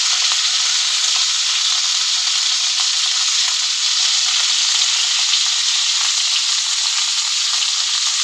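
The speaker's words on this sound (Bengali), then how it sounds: "সুন্দর করে আমি ভেজে নেব।" Hilsa fish frying in a pan with salt and turmeric, a steady bright sizzle that holds loud and unbroken throughout with no talking.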